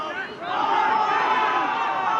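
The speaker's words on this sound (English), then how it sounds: "Young Munster roaring for another penalty." Young Munster supporters at an All-Ireland League rugby match against Trinity roar for a penalty, a dense crowd shout swelling after a brief lull and holding loud and sustained, with no distinct voices standing out.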